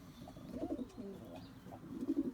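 Pigeons cooing in a loft with young birds, a series of soft, low throaty coos repeating close by with no one talking.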